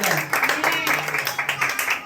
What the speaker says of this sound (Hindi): तो आइए इस वचन के लिए हम परमेश्वर से ताली बजाकर हम धन्यवाद से तालियां बजाएं।